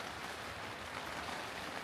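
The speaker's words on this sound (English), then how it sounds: "Can you hear the rain?" Rain patters steadily on an inflatable air tent, a soft continuous hiss heard from inside, faint and even with no voices.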